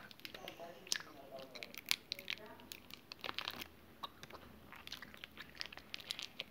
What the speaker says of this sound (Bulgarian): В момента дъвча.